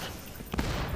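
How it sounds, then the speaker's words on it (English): Homemade gun fired in the shooter Borderlands 2, a short burst of rapid cracking shots and a booming blast, loud and close. "Let me use my homemade gun on him."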